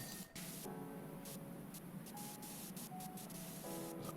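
A pressure washer in the video game Powerwash Simulator 2 hisses in a continuous broadband spray, with brief breaks and faint tonal game sounds in between, steady and close.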